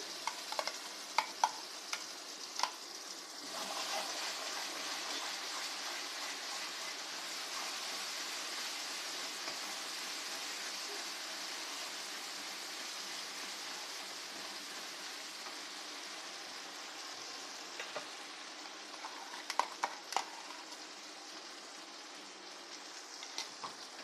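Yellow mustard and garlic paste sizzles and crackles steadily in a hot pan, with occasional clinks and scraping stirs, close and continuous with no talking.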